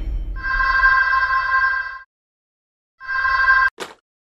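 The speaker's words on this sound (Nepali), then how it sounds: "ओह पूजा, कति फोन गरिराखे कि?" A telephone rings in two bursts of electronic trilling, a long ring then a pause and a shorter ring cut off by a brief click, close and clear with no talk.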